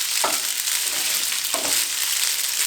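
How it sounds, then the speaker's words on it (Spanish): Tornillo pasta tossed with fresh basil pesto is stirred in a pan, two scraping strokes over a soft, steady sizzle with no talking. "Vamos a revolver bien."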